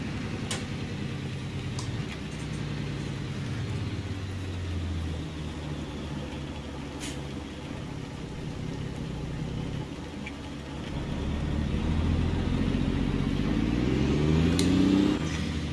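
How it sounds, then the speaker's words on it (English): A Mack R truck engine in American Truck Simulator drones low and steady, then revs up toward the end with rising pitch and volume, heard alone without talk. "This motor really runs up"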